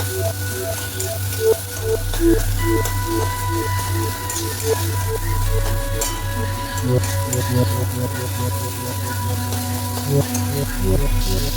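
Spices, including Kashmiri chili powder, fry in a pan with a steady, close crackling sizzle that continues under tuneful background music.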